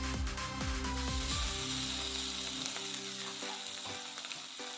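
Ginger-garlic paste with salt sizzles and fries in a pan while being stirred, with close scraping and clinking of the spoon over a steady crackling hiss.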